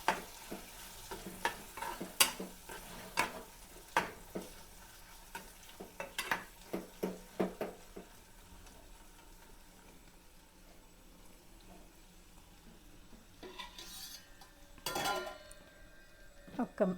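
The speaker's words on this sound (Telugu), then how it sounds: "మొత్తం అంతా కలిపేసుకోవాలి." Ridge gourd curry mixed with chilli powder in a pan: a run of rhythmic spoon scrapes and clinks against the pan over a low frying sizzle, easing off midway before a few louder stirs near the end.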